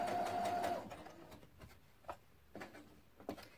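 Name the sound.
sewing machine stitching fabric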